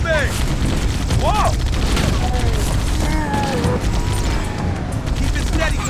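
Bursts of gunfire in Halo: Combat Evolved crackle and boom almost without pause amid battle noise, with character voices shouting over the shooting.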